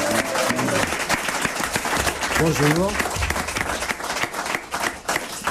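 Studio audience applauding two guests on a French television talk show, steady clapping throughout with voices cutting in over it, including a brief greeting.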